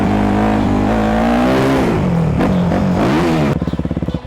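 A freestyle motocross motorcycle revs hard and accelerates toward a jump ramp, its loud engine note rising and falling close by, then breaking into rapid staccato pulses near the end.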